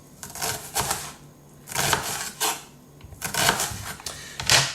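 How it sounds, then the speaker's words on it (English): Knife finely chopping an onion on a board for lasagna bolognese, heard as bursts of rapid, crisp cuts separated by short pauses, close and fairly loud with no talk. "So then all you want to do is cut finely down the onion."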